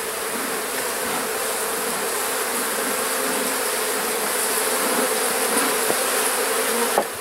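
Honey bees hum in a dense, steady buzz around an open beehive, close and continuous, with a few faint clicks of hive parts and no talking.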